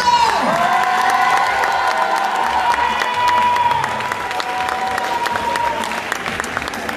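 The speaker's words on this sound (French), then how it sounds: "On peut encore les applaudir toutes" At a pageant show, an audience applauds and cheers for the contestants in a lively hall. Steady, loud clapping mixes with whoops and shouts throughout, then eases slightly toward the end.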